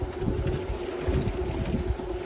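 Steady wind buffets the microphone aboard a sailboat heading into an east wind, with a low continuous rumble and rushing gusts throughout and no voices.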